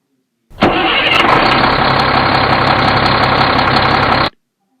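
A toy truck's simulated diesel engine sound cranks and catches, then idles with a steady rumble for a few seconds before cutting off abruptly; loud and close.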